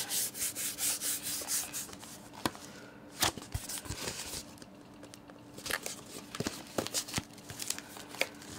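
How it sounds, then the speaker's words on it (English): Close, dry rubbing of a hand smoothing down paper on a book collage, with repeated scuffing strokes in uneven bursts and brief pauses between them. "And then we're gonna smooth it all down."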